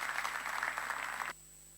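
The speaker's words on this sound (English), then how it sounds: "please, if you give a round of applause to all four panelists for their contributions this morning" An audience applauds the four panelists at a financial inclusion policy forum, a dense burst of clapping from a crowd that cuts off abruptly partway through, leaving near silence.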